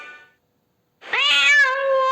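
A cat gives a long, loud, drawn-out spring meow, clear and close, preceded by a brief shorter cry and a moment of silence.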